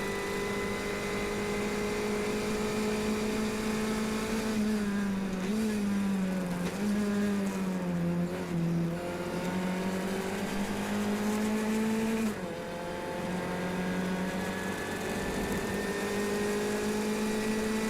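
Formula 1600 race car at Mont Tremblant with an upgraded engine, heard from on board. It drops low exiting a slow corner, then revs up and climbs steadily through the gears, loud and continuous, with other cars nearby.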